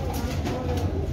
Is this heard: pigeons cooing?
yes